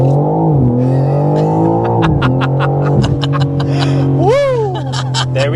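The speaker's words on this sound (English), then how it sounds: "we need to first start with a hard acceleration" A 2025 BMW M4 CS under hard acceleration, its engine climbing steadily in pitch with quick upshifts breaking the rise, loud and close, with faint tire noise and a brief voice near the end.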